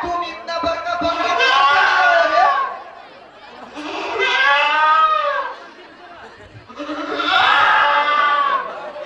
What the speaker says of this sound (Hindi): बकरी के बचवा हमें परेशान करेला